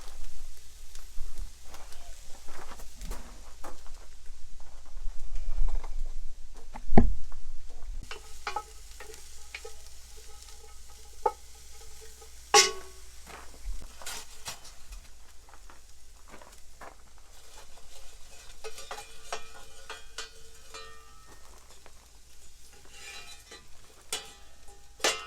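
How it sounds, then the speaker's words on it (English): Peppers sautéing with onions in a pan for a breakfast casserole, a steady low sizzle with scattered stirring scrapes and clinks throughout, moderately close, with no talk over it. "Put in there and saute with the onions."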